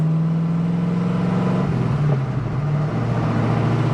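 A 1978 Pontiac Trans Am with a 400 engine and manual clutch drives on a test run, its steady loud engine drone rising slightly as it is pushed harder, continuous and close throughout.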